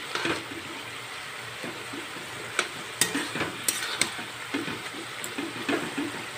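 Red amaranth leaves for a tangy-spicy chutney fry in a pan, with a steady sizzle under repeated scraping stirs that come in irregular bursts throughout.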